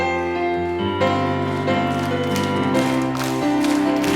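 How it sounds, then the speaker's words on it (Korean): A church congregation claps along during a loud sung worship song, steady hand claps blending into the sustained music and voices of the service. "우리 손뼉 치면서 함께 뜨겁게 찬양 부르고 기도하기 원합니다"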